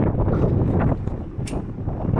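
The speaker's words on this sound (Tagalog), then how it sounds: "grabe ang hangin" Strong wind roars steadily across the microphone, a dense low rumble with gusty surges and no voices, loud throughout.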